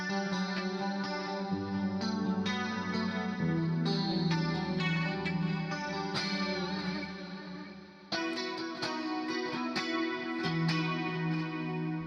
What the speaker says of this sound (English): Just when I increase the spread, you can hear the delay left and right.